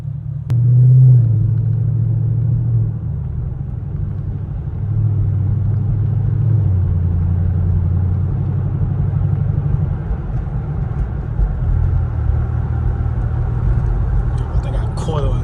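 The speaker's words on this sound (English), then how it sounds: "Yeah, the idle is pretty loud though." A car with a muffler delete idles loudly at night with a deep, steady rumbling exhaust drone, heard from nearby while people talk over it.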